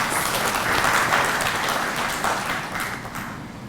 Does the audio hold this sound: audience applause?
yes